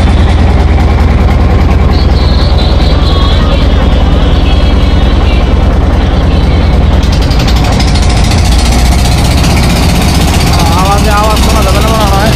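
A boat engine runs steadily on a river in the afternoon, a loud continuous low drone with rattling texture throughout, while people talk over it.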